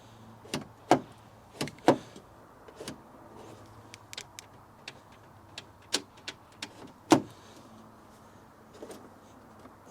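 A series of sharp clicks and clunks from a Seat Ibiza car door and lock mechanism unlocking and opening, irregularly spaced, close by, with quiet background between.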